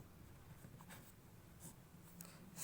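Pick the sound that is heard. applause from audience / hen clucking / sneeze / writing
writing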